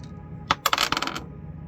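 Dice tumble across a hard surface, a sharp first hit followed by a quick burst of clattering bounces and rattles that settles within about a second, close and alone with no talking.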